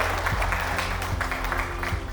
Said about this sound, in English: can everybody give her a round of applause?